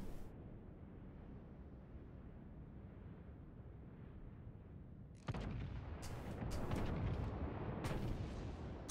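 Heavy naval guns fire in World of Warships, a steady rumbling battle backdrop that gives way to louder booming salvos with sharp cracks, heard up close without speech.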